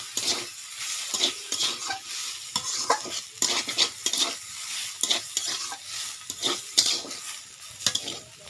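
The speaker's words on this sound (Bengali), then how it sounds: "খুন্তি দিয়ে এইভাবে মাখিয়ে নিচ্ছি।" A spatula mixes amaranth-greens raita in a pan, giving repeated quick scraping and clinking strokes in an uneven rhythm, close and moderately loud, with no speech.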